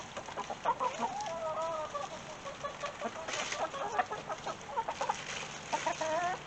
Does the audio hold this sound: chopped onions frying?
no